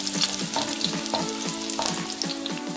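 Chopped garlic fries in hot oil for vegetable noodles, giving a busy, close sizzle with repeated scraping stirs at a brisk, regular pace and no talking.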